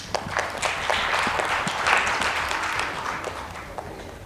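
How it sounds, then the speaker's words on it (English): An audience applauds debate scholars at a youth day event, a dense, steady round of clapping lasting a few seconds with no speech over it. "let's just give our scholars a round of applause"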